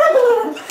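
A beagle lets out a short, close, loud whimpering whine that falls in pitch, like an attempt to speak, with a brief yip at the end.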